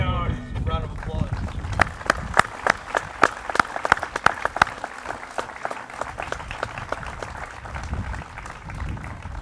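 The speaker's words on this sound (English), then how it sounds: "please give your first responders a round of applause" A crowd at a Memorial Day service claps for first responders, sharp scattered hand claps building into a brief round of applause before thinning out, with some murmuring.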